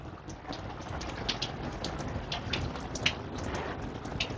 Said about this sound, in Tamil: நேற்று காலையில் ஆரம்பித்த மழை பார்த்திங்கன்னா நிற்காமல் பெஞ்சிக்கிட்டு இருக்கு.